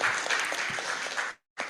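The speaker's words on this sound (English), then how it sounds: "give a very good applause" Brief burst of audience applause at an international guest lecture, steady clapping that cuts off abruptly before resuming for a moment.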